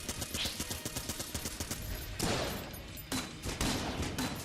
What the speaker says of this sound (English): Oh, that was good. Good explosion.